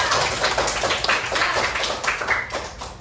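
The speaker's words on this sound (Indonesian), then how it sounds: "Tepuk tangan dulu untuk ayah." A classroom of children claps for a father, a steady wash of many small hands that rises and tapers, with a few voices faintly under it.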